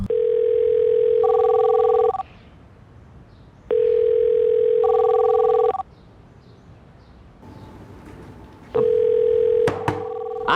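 Unanswered phone call with a steady ringback tone: three long two-second bursts, each with a higher two-tone layer partway through, separated by quiet gaps, loud and close in a tense indoor crime-drama scene.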